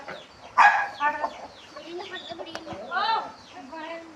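Chickens cluck and squawk close by in a Punjab village yard, a sharp loud burst early on followed by irregular clucking, with people talking at the same time.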